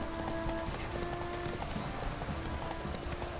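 Rain falling in The Witcher 3: Wild Hunt, a steady dense patter on surfaces lasting throughout, with horse hooves clopping faintly along and faint tonal game sounds layered above.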